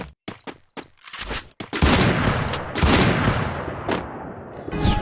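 Gunfire in a video game match with sniper rifles, a handful of sharp, separated shots at first, then a dense, sustained barrage of loud blasts and booms close by.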